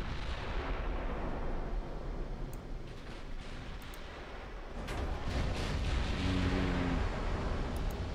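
Heavy 16-inch naval guns boom in a warship battle in the game Ultimate Admiral: Dreadnoughts, a dense rumbling barrage with several sharp blasts over a steady low roar.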